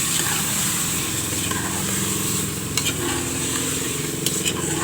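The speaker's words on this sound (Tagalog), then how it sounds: "Igisa lang natin ang chicken." Chicken sautéing in a pan with onion, ginger and tomatoes for tinola, a loud continuous close sizzle with occasional stirring knocks and no talk.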